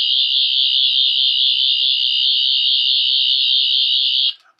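A 14th Doctor sonic screwdriver toy, limited edition, on its red setting gives one loud, steady high-pitched electronic tone held for over four seconds, then cutting off abruptly with a brief click at the end.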